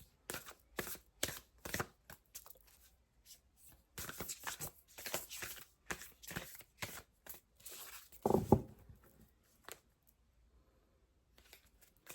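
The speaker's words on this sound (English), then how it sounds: "Let's try shuffling one more time." Tarot cards are shuffled by hand in a quiet room, giving repeated short riffling and slapping bursts in an irregular rhythm, close and fairly soft, with a louder flurry near the end.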